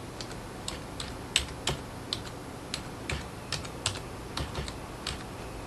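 Words being typed into a crossword maker on a computer keyboard, a quiet irregular patter of individual key clicks with short pauses, nothing else heard.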